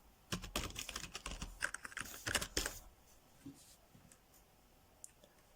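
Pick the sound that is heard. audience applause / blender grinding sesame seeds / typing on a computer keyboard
typing on a computer keyboard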